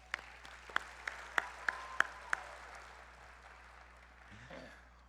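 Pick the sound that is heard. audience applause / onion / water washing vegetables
audience applause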